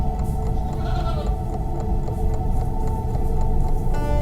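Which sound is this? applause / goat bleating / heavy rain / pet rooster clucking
goat bleating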